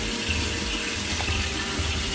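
Water is poured from a cup into a bowl of boxed vanilla cake mix, giving a short, steady splashing trickle close by with no talking.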